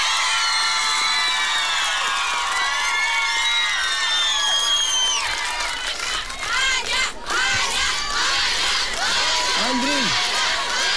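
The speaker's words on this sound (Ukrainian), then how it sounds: "ваші оплески Віри." An outdoor crowd on a town square at a karaoke contest cheers, whoops and shouts loudly and continuously for a contestant, with high children's shrieks and some applause mixed in.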